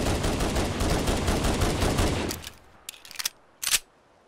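Halo weapon gunfire in Fallout 4, a loud rapid automatic burst for about two seconds, then trailing off into a few scattered shots and a final sharp blast.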